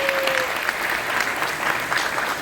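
Applause and cheering from an audience at a Fan Expo 2024 panel, a dense, sustained clatter of clapping with a loud whistle at the start, heard from within the crowd.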